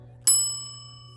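A single bright notification-bell ding strikes once and rings out with a long, slowly fading shimmer over a steady low hum.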